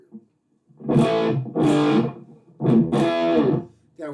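Electric guitar through a Chicago Stompworks distortion pedal with the drive set around 9 and a touch of reverb, playing loud, saturated chords in several sustained bursts separated by short pauses, with a brief spoken word at the start.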